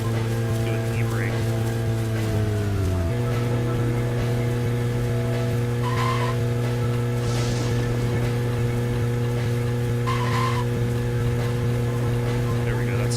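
A car does e-brake donuts in the video game Deadly Premonition: a steady, droning engine hum whose pitch dips once early on, with faint intermittent chirps and possible low talk.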